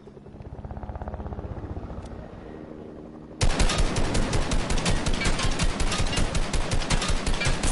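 A helicopter passes overhead with its rotor chopping in a rapid pulse, moderate at first, then abruptly much louder and harsher as rapid gunfire-like bursts join in, continuing steadily to the end.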